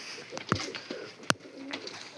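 Soft cooing from a Ratti breed female pigeon sits under a quiet background, broken by a couple of sharp clicks and taps.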